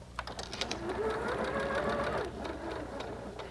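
A sewing machine stitches a quilt seam through pinned fabric, a steady close mechanical whir running through the whole stretch with a faint tonal hum rising in the middle.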